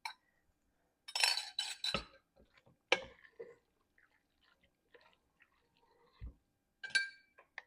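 An egg is beaten with a utensil into a mac and cheese mixture in a glass bowl, giving a few short, close clinks and taps in separate bursts with quiet pauses between them.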